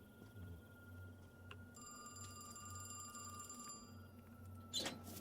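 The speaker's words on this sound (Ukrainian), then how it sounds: "телефон задзвонив на вулиці" A telephone rings outside a gas station in the horror video game Gas Station Case. The electronic ringing is faint and steady over a low background hum, with a brief louder knock near the end.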